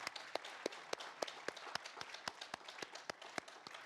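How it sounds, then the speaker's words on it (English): Sparse, faint clapping, a handful of people applauding a panel at an event in a steady rhythm with clearly separate claps. "How about a great round of applause for our fabulous panel?"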